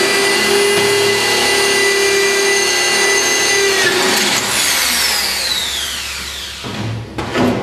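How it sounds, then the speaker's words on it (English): A power drill bores into metal box section, a loud steady whine that runs for about four seconds, then winds down in pitch and cuts out with a couple of short bursts near the end. "you're going to drill into your box section at the bottom there"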